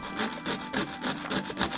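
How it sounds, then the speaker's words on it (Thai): A hand saw cuts through a plastic pen barrel in quick back-and-forth strokes, each rasping pass loud and close, about seven strokes in steady rhythm with no talk. "เอาเลื่อยมาตัดปากกาครับ"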